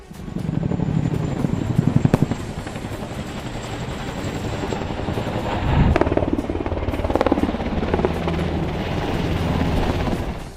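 A helicopter drones steadily overhead during firefighting at a fire, with a rough, rumbling wash of rotor noise that swells and fades slightly over several seconds.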